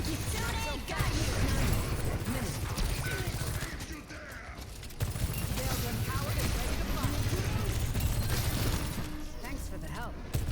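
Rapid sustained gunfire from Sojourn in the shooter game Overwatch 2, dense rattling bursts, loud and near, broken by a brief lull midway, with game effects layered over it.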